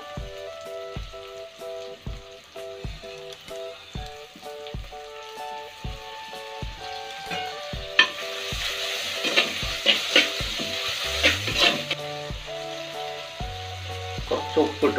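Tomatoes go into a pan with crushed ginger and garlic for a clam roast. Regular utensil knocks come first, then a growing, crackling sizzle of frying, with stirring scrapes and taps over it.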